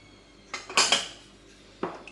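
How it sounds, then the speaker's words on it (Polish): Dry cake ingredients, including cocoa, baking powder, sugar and salt, get stirred in a bowl, with a spoon clinking sharply against its sides in a few distinct bursts over quiet background. "Łączymy suche składniki."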